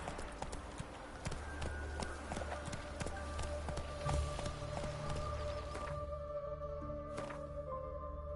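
Roach, the horse in The Witcher 3, trots steadily with rhythmic hoof clip-clops on the ground, close and moderately loud under a droning ambient music bed, easing toward a slower pace near the end.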